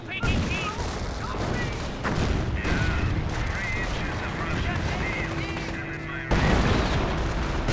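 Battle in Company of Heroes 1 with a grenade thrown amid continuous gunfire and explosions, dense and loud throughout with a sharper burst near the end, under a commentator's voice.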